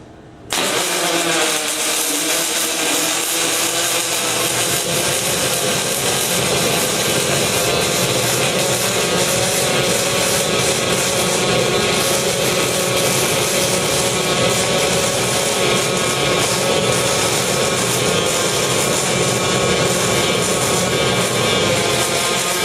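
MIG welder running a helium-based shielding gas on a fillet weld, a steady dense crackling buzz that starts abruptly and holds continuously and loud for the whole stretch.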